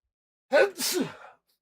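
A single sharp sneeze bursts out close up, a quick inhale followed by an explosive release, alone in silence.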